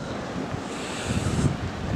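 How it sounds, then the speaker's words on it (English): Sea waves wash ashore at Sidmouth in the calmer days after a February storm, a soft continuous surf rush mixed with wind buffeting the microphone. "So the sea's considerably calmer today than it was before."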